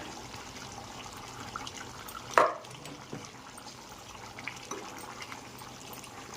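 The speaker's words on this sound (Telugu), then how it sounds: "కొంచెం వాటర్ పోసుకోండి." Water is poured into a pot of gongura chicken simmering on the stove, giving a brief splash around the middle over a steady low background of bubbling and kitchen noise.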